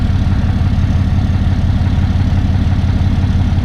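A fully loaded 4th generation Dodge Ram 3500 truck on 37-inch tires idles with a loud, steady low rumble, close and continuous without a break.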